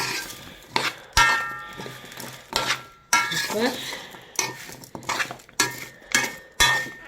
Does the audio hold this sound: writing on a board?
no